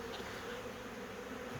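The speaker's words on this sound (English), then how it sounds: "bee unit takeover by bees" Honey bees swarming into a bee house make a dense, continuous buzzing drone, close and steady, with no voices over it.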